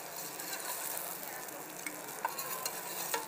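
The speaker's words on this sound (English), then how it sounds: "I'm going to add everyone's favorite, or mostly everyone's favorite, a little bit of diced bacon to this" Diced bacon frying with garlic in a pan, a steady close sizzle with light crackles and occasional stirring scrapes, alone without speech.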